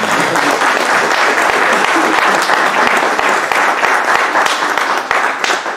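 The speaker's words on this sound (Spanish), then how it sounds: "Démosle un fuerte aplauso, por favor, a la doctora" Audience at a medical lecture on acute childhood leukemias clapping for a doctor, a loud, dense burst of applause from many hands, sustained and close throughout.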